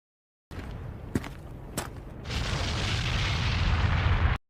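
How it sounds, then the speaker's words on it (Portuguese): Anime battle explosions from Stark training in Frieren: two sharp booms, then a sustained low rumbling blast that swells and holds before cutting off abruptly. "Fer ouve explosões e vai verificar"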